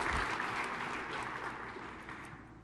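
An audience at a SharePoint conference session claps in a dense burst of applause that gradually fades over a few seconds, moderately distant and without speech.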